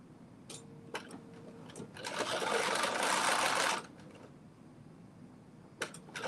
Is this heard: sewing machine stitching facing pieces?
yes